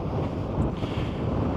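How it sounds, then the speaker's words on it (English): Strong wind roars and buffets continuously on a mountaintop near cobalt mines, a loud gusty rush blasting close by with no voices. "Very windy today."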